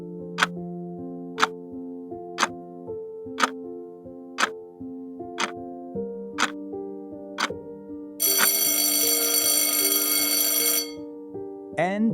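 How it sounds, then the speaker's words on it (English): A countdown timer ticks in a steady once-per-second rhythm over a low sustained background tone, then a loud ringing burst sounds for a few seconds near the end. "The timer is rolling."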